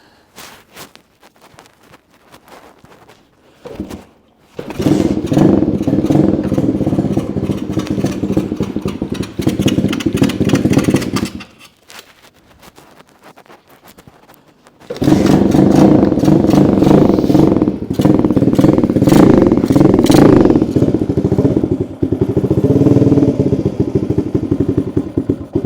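A Xpro X9 125 motorcycle engine runs at idle in two long stretches separated by a quiet pause, its steady, loud, close rattling hum rising and dipping slightly as the throttle settles.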